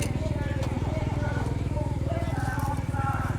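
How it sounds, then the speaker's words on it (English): An engine in a car cut in half cranks over, a rapid, steady low chugging pulse that runs close and continuous, with faint voices in the background. "so the engine turns"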